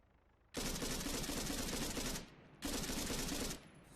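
Assault rifle fire aimed at a helicopter in Arma 3, two long sustained automatic bursts, loud and close, separated by a short pause, with no voices.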